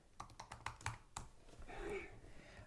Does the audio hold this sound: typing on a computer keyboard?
yes